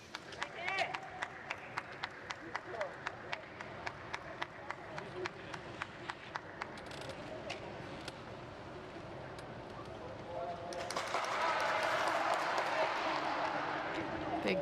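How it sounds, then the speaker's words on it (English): Cheers from other teams around a boccia arena with no spectators, at the Tokyo 2020 Paralympic Games, swelling into a loud, sustained roar near the end after a run of sharp, regular clacks and claps. "Big cheers from elsewhere around the centre."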